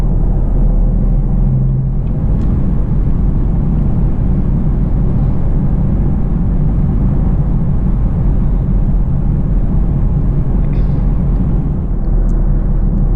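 Steady, loud engine drone and road rumble from a Camaro RS V6 1LE on a drive, continuous and close with no voices.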